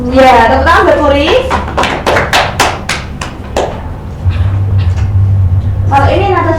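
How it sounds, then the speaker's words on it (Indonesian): Primary school classroom clapping for a student named Puri during a microteaching lesson: about ten crisp, rhythmic claps in a burst. Speech comes before and after, with a steady low hum in the background. "Ya, tepuk tangan buat Puri."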